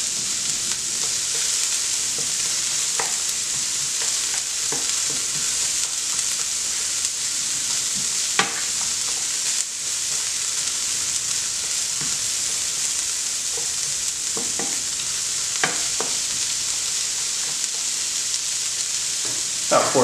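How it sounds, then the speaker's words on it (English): Onions fry in a pan with a constant bright sizzle, while a utensil stirs and scrapes through them at irregular moments, the hiss staying loud and steady throughout. "we're going to cook these down so the onions are pretty translucent"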